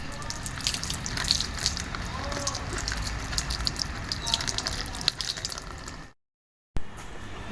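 Running water splashes steadily as freshly picked flowers are rinsed for a puja offering, a broad wash of sound lasting several seconds before a brief cut to silence, then resuming.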